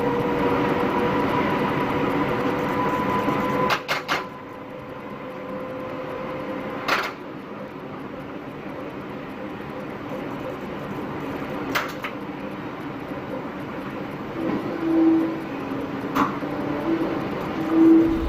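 A tram rumbles past close by on Civic Street in Newcastle in a long, steady roar, with a few clanks and a thin squeal of wheels toward the end.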